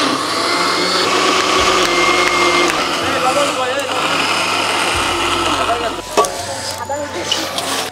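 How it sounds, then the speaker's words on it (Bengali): An electric blender grinds papaya leaves in a kitchen with a loud, steady motor whine that dips briefly at a few points, while people talk over it. "যার জন্য ব্লেন্ডার করে নিচ্ছি।"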